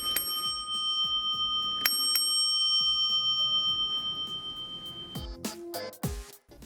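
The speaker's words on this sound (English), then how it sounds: "a doorknob with a bell built into it." A bell built into an old doorknob rings during a kitchen demolition, two bright metallic dings with long ringing decay, then a rapid cluster of jangling rings.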